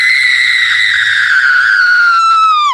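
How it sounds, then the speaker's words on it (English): A single sustained, piercing scream sound effect played from a soundboard, loud and close, holding a high wavering pitch for nearly three seconds before cutting off with a sharp downward drop. "That is the most aggressive scream you have on there."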